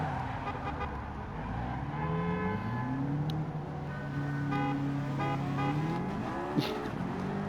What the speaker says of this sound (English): a lot of traffic here.